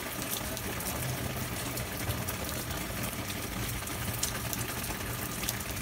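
Steady outdoor rain, not pouring, falling around people standing out in it, a dense continuous hiss of drops with faint sharp patters, fairly quiet and unbroken, with no voices.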